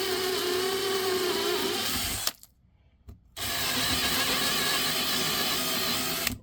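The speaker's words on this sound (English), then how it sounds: "So I'm just going to drill out these holes." A power drill bores out holes for carriage bolts in a model railroad module leg, whirring loud and close for a few seconds, pausing briefly, then drilling again.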